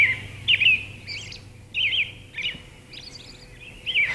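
Songbirds along the Alaska Highway chirp in short, bright bursts that repeat every second or so, moderately near over a quiet outdoor background.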